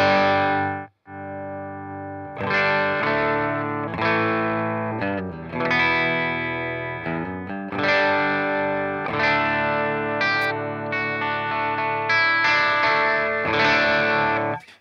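An electric guitar plays a series of chords and sustained notes through a Caroline Shigeharu fuzz pedal with the guitar volume rolled off, giving a fuzzy, lightly distorted tone that sounds cleaned up and soft, with brief pauses.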